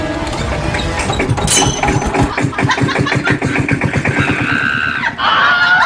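An old vehicle that needed pushing starts up, and its engine chugs in loud rapid pulses before settling into a rougher tone, with background noise but no clear speech.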